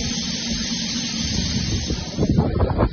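A small steam engine hisses steadily and loudly throughout, with a low rumbling chug building near the end.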